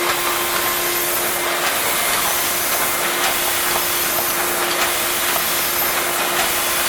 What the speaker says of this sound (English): IWKA tube filler. Finishing its last run before we take delivery of the unit.